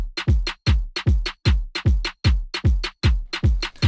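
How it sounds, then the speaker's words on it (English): Kick and snare drums in an electronic dance track, punchy low kicks alternating with snappy snare hits in a steady driving pattern, loud and alone. "the kick and snare come in straight away"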